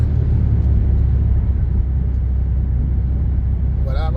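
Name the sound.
naturally aspirated big-block car engine accelerating gently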